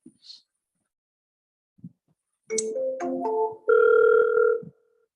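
A telephone rings back during an outgoing call: a few short keypad-like beeps and tones lead into one sustained ring tone, heard close and alone.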